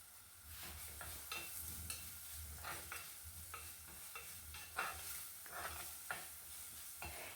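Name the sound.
sautéing dried fish curry ingredients in a pan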